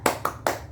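Group clapping for a rhythmic cheer during a child-protection training session, three quick, close claps in a short pattern, moderately loud with brief gaps between them.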